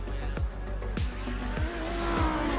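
Race cars heading out on track for a qualifying session, engines droning steadily as several cars pass with quick rising-and-falling sweeps, fairly close, over a constant low rumble.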